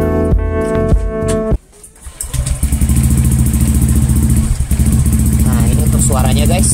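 A Honda Vario 150 scooter fitted with an AHM exhaust, just started, gives a brief burst of clattering noise, a short drop, then settles into a loud, steady close-up engine rumble with a voice talking briefly over it near the end.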